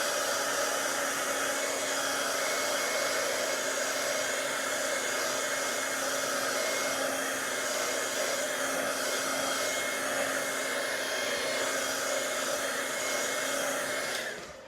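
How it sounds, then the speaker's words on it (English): A heat tool blows a steady, loud, close whirring hum over wet watercolor paper for a card project, running continuously without a break and cutting off at the very end, with no talking. "I'm gonna dry this out with my heat tool just a little bit."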